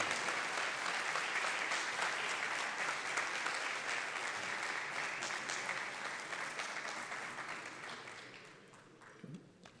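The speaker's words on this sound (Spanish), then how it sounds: "Pido un fuerte aplauso para el presidente de la República Hermana de Paraguay, un fuerte aplauso para la CIP" Sustained applause from a large audience at the opening event in Córdoba greeting the President of Paraguay, dense and even, tapering off toward the end.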